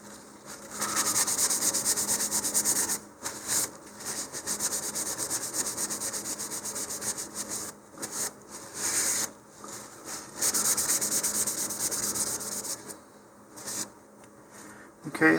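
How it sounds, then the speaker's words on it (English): A 3D-printed Rocketarium Exocet MM40 model rocket is wiped down with rubbing alcohol, making close, dry rubbing strokes in uneven bursts with short pauses between passes. "I'm going to use a little bit of rubbing alcohol here and just wipe this down"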